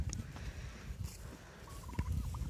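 White four-month-old turkeys on a farm gobble in short bursts over a steady rustle and low barnyard noise, with a brief louder call near the end.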